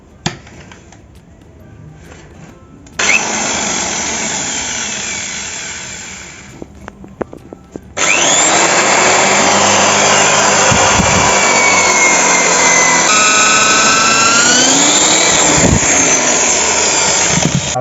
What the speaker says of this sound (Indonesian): Nah, kita bor dulu ya.